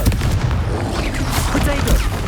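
Explosive spell blasts from Bombarda and Confringo in Hogwarts Legacy, a dense run of loud booming bursts overlapping one another with hardly a gap across the whole stretch.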